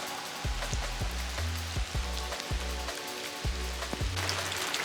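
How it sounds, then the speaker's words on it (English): Rain falls at a campground at Oastler Lake Provincial Park, a faint, steady patter with recurring low, rhythmic thumps underneath. "it just started to rain"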